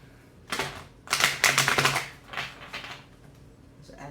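Tarot cards are riffled and shuffled in several quick bursts of papery flutter and snapping, close and fairly loud, with quiet gaps between them.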